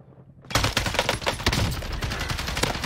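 Rapid gunfire rattles through a Call of Duty Warzone match, breaking in abruptly after a short quiet lead-in. Loud, close bursts of shots stutter in quick succession and continue to the end.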